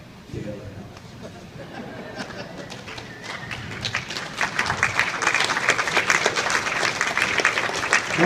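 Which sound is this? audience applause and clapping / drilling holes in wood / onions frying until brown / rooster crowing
audience applause and clapping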